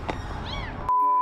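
A kitten meows once during a rescue, a short, high, rising-and-falling cry heard close up, followed by a sharp cut to a steady tone.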